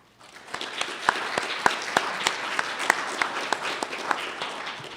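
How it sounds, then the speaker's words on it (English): Steady audience applause for student contestants at an ambassador presentation program, with sharp individual claps standing out of the continuous clapping for about five seconds. "Please join me in giving a round of applause to these outstanding contestants."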